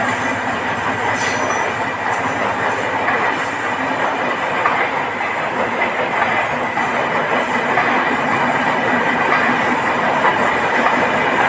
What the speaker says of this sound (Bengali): ট্রেন যেহেতু আসতেছে